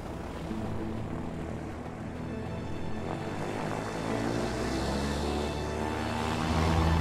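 Steady propeller-plane engine drone from the video game A Way Out, a continuous loud hum with rising intensity toward the end, no talk over it.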